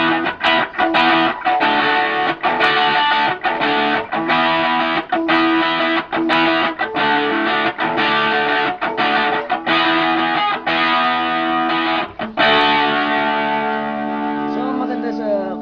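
An electric guitar played through a custom Cabalen distortion pedal rings out loud and heavily distorted, with rhythmic strummed chords and sustained notes, alone without talk.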